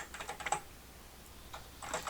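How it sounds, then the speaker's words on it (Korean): Typing on a computer keyboard while entering text in Illustrator's type tool: quick bursts of close key clicks, a cluster at the start and another near the end with a short pause between. "커서가 껌뻑껌뻑거릴 때 키보드 입력하시면 되죠"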